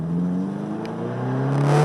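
A turbocharged Honda S2000 engine accelerates hard from inside the car, a loud rising whine and roar with climbing harmonic tones.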